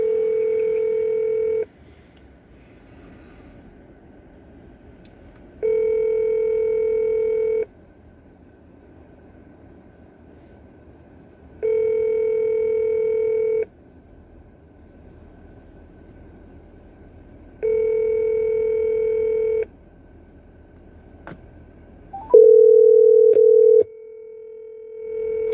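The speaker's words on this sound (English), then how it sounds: "your call box is just ringing" A gate call box rings with a repeating electronic tone, about four evenly spaced bursts a couple of seconds long separated by pauses, followed by a brief click and a final sustained tone; no one speaks.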